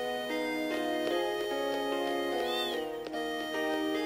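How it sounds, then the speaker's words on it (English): A cat meows in Final Fantasy 8 over steady game music, with a soft rising mew and a clearer drawn-out one near the middle of the clip. "Cute kitty, huh?"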